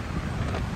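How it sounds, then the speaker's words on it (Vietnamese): Strong seaside wind at Hà Tiên on a rainy afternoon, a dense roaring gust buffeting the microphone with possible wave wash beneath, loud and continuous. "gió rất là lớn,"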